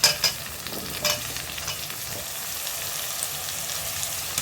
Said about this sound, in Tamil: இதையும் சேர்த்து நல்லா வதக்கி விட்டுக்குவோம் கத்திரிக்காய் முருங்கைக்காய் இதோ வெங்காயம் தக்காளியோட சேர்ந்து நல்லா வதங்கட்டும்